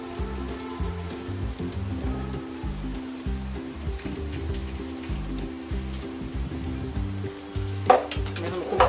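Khichuri with garam masala fries and is stirred in a pan, giving a steady crackling sizzle with repeated scraping strokes, close and fairly loud, plus a sharper clatter near the end.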